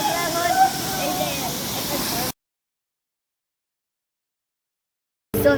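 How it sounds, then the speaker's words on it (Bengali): Rupali waterfall in Bandarban pours with a loud, broad rushing roar for a couple of seconds under a voice, then cuts to silence before a short burst of the rush returns at the end. "এই ঝর্ণার নাম হলো রূপালী ঝর্ণা।"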